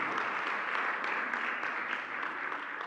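A church congregation applauds to welcome visitors, a soft, even wash of many hands clapping at a distance that stays steady throughout.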